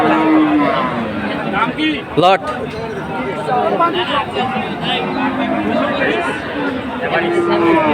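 Cows and calves at a cattle market in Chattogram, Bangladesh, mooing, with a couple of long low calls rising over a busy crowd of people chattering nearby.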